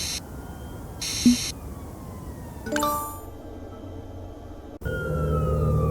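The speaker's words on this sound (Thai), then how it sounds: "รถตำรวจมาแล้วนะครับ NYPD" An NYPD police car siren wails on a city street, its rising and falling tones, rich in harmonics, sweeping across several seconds alongside brief chiming and clanging tones, with steady traffic noise underneath.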